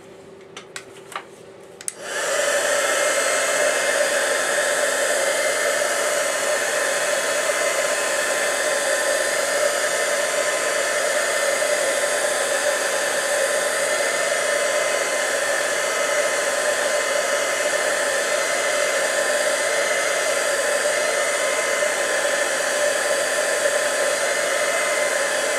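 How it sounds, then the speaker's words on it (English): Heat tool blowing hot air to set coats of scratch-off paint, a steady loud whooshing whir that starts abruptly after a few faint taps and runs on without pause. "Now we're going to heat set it again."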